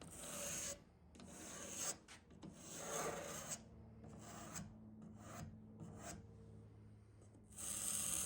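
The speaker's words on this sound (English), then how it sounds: "I'm using a different shaped scraper pretty much to get the finish off of the interior of that joint there" A hand scraper strips finish from the inside of a joint on a wooden mid-century furniture piece, making close, repeated rasping strokes in irregular bursts with short pauses between them.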